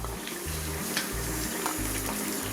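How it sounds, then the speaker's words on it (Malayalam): Grated coconut crackling in oil during a Kerala beef roast, a continuous soft sizzle with repeated low pulsing bands and faint stirring, close and fairly quiet, with no voices. "ഈ തേങ്ങ ഇങ്ങനെ എണ്ണയിലൊക്കെ വറുക്കുമ്പോഴേ ആ ഒരു തേങ്ങ വറുത്തതിൻ്റെ ഒരു ഫ്ലേവറും ഒക്കെ അതിനകത്ത് ഉണ്ടാവും"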